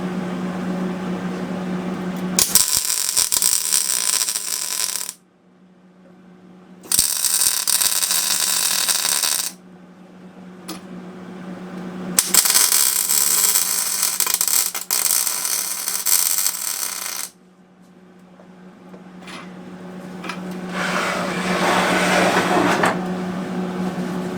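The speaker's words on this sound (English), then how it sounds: "I'm going to grab my welder and I'm going to tack the plate onto the support there." MIG welder tacking a steel plate onto the support of a WEN 3975 metal-cutting band saw, several loud sustained crackling bursts of a few seconds each separated by short pauses, with a steady hum underneath throughout.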